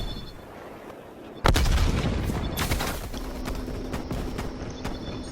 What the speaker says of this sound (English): Hostile frag grenade.